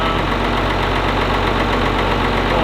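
A Ford TW25 tractor engine running after a service, a loud, steady, close diesel idle with a rough, knocking throb and no pauses.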